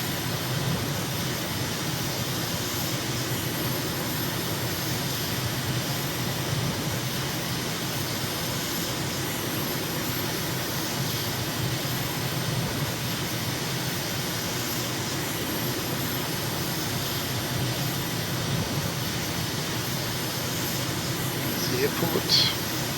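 Steady aircraft engine drone during a low pass over runway 33 at Incheon in Microsoft Flight Simulator, a continuous broadband roar that stays constant throughout.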